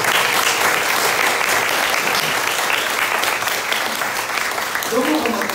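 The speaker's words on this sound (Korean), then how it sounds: "우리 청년들을 위해서 박수 한번 하십시오" An audience at a summer church revival meeting applauds steadily for its young people, a dense, continuous clapping that fills the space from start to finish with a faint voice surfacing near the end.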